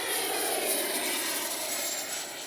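A Freewing 80mm F9F-8 Cougar RC jet in flight gives a steady, loud, airy whine-roar that holds evenly throughout, fading slightly at the end, with no voices.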